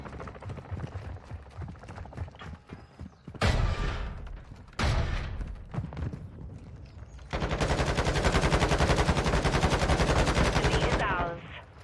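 Rapid automatic gunfire from Call of Duty: Modern Warfare 2 (2022), with an AK assault rifle among the weapons, comes in loud bursts over several seconds between shorter shots and a few softer gaps.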